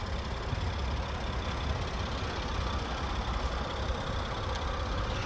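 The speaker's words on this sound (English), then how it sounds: "That ticking sound you hear, that means that the characteristics of this model is a direct injection" A 2023 Nissan Pathfinder Platinum direct-injection engine idles steadily with a faint, rapid mechanical injector ticking layered over the low rumble, continuous and close.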